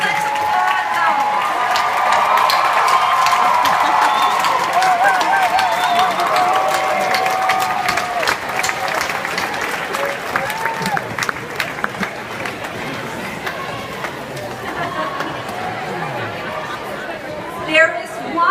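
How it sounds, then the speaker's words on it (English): Graduation audience at a Hunter social work school ceremony claps and cheers in a sustained, dense wave of applause mixed with crowd chatter, fading gradually toward the end. "friends, let's applaud them."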